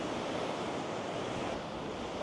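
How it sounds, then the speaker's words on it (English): Sea waves crash continuously against a long beach lined with dunes on Fuerteventura, a dense, even roar of surf with some wind, heard alone without voices. "All you can hear is the sea crashing against the beach."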